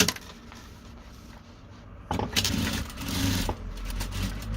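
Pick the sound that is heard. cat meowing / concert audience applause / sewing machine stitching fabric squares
sewing machine stitching fabric squares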